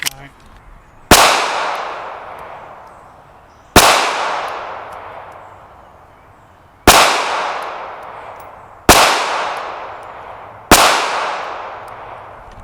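Five sharp, loud pistol shots from a Smith & Wesson Bodyguard 2.0 at an outdoor range, spaced a few seconds apart, each one ringing out and decaying before the next.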